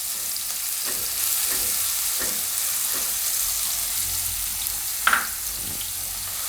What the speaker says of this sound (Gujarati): તેલમાં આપણે લસણને આ રીતે ફેરવી લેવાનું.